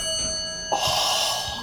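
Chime of an 1980s Westinghouse hydraulic lobby elevator arriving at the Arts Building, a single bright bell tone ringing out with steady sustained overtones and a second strike partway through, fairly close, with no talking.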